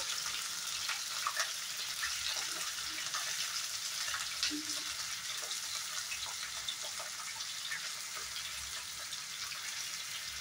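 Potatoes and carrots frying in a pan for drumstick curry give a soft, continuous sizzle, quiet and even for the full length, with faint scattered crackles and no talking.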